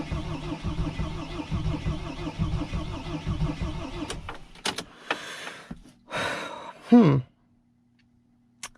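A Mercedes Sprinter T1N diesel van cranks without catching, a rhythmic starter churn for about four seconds, then stops, followed by scattered clicks, a door-like thud and a brief squeal before near silence.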